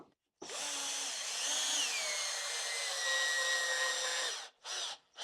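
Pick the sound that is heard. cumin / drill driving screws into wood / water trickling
drill driving screws into wood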